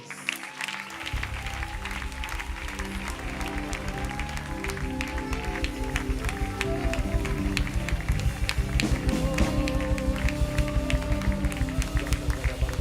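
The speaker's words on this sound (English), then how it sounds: "Give God a hand clap of praise" A church congregation claps hands in praise, a steady, fast, dense wall of applause over music that grows louder and fuller throughout, with faint voices underneath.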